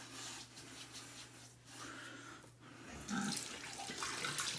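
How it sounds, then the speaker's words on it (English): Tap water runs as hands are rinsed beneath it, a soft, steady splashing close by that swells a little near the end. "I like to rinse my hands off afterwards."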